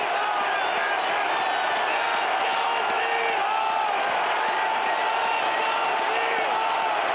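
A huge NFL home crowd roars continuously at a football stadium as the Seahawks host the Saints in a wildcard playoff game, a dense, sustained wall of cheering with whoops and shouts rising and falling throughout.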